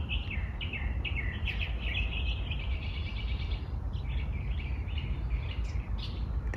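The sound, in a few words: birds singing outdoors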